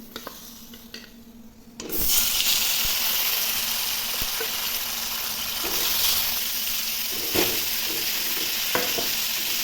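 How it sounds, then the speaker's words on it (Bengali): Fish dropped into hot oil in a pan for an outdoor Indian meal cooked with yam bursts into a loud, steady sizzle after a quieter start, the hiss holding strong with occasional pops and stirring scrapes. "তেল গরম হয়ে গেছে, এবার মাছগুলো ভেজে নেব।"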